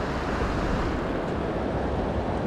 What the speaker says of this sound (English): Water rushing out.